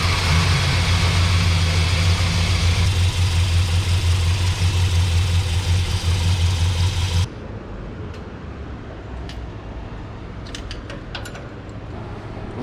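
Carbureted engine of a Sweptline Dodge pickup truck running on a primed carb, a loud rough steady drone that suddenly dies after about seven seconds, leaving quieter background noise and a few faint clicks.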